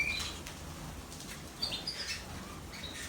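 Red factor canaries flutter their wings inside a cage, giving quick soft flaps and rustles, with a few faint high chirps mixed in at close range.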